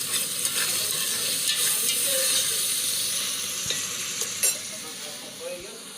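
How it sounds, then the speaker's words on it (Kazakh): Lagman frying in a pan gives a steady, soft sizzle and hiss, with occasional clicks and scrapes from stirring, heard close by. "Мында лағман істеп жатырмын кешке"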